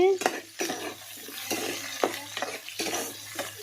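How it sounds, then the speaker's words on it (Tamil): Onions sautéing in a pan, with a soft sizzle under repeated scraping stirs of a utensil against the pan, several distinct strokes at an irregular rhythm. "இப்போ வெங்காயம் நல்லா வதங்கிக்கிட்டு இருக்குது"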